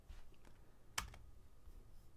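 A few light key presses on a computer keyboard with one sharper click near the middle, faint and close against low background hum.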